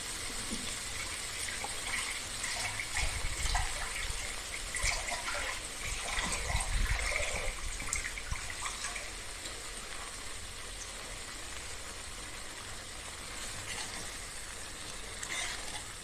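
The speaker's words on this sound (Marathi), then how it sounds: "आपण ह्याच्यात पाणी घालून घेऊया" Water is poured into a pot of cooked mixed lentil dal, a steady rushing splash and gush that swells midway and then settles into a softer trickle, with no talking.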